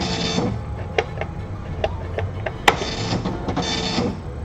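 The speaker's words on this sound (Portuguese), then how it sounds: "Cada vez que eu dou um comando em Basic, ele manda um comando para a impressora." An old computer printer runs commands sent from BASIC, buzzing through print passes with repeated mechanical ticks and clicks, loud and close, with no speech.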